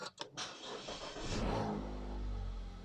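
Car engine cranks briefly and catches after a jump start from a BEATIT B10 Pro jump starter, then settles into a loud, steady idle close by.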